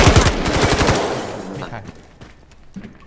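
Bursts of MK-47 rifle fire in the shooter game Delta Force, a rapid close string of loud shots in the first second, then quieter scattered game noise.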